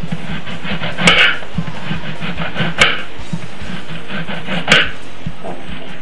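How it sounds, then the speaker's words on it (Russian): A knife slices an onion into thin rings on a board with three sharp, separated chops over a few seconds, against a low background of faint kitchen clatter. "И также кольцами нарезаем лук."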